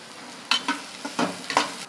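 Hot oil crackles as a tempering is made for a spiced brinjal curry, with quiet sizzling punctuated by several short, sharp spatters and pops spread unevenly across two seconds.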